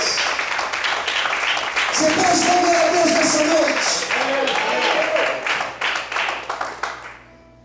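A church congregation claps and applauds during an evening service, with sustained clapping mixed with music and a preacher's voice talking over it before it fades out.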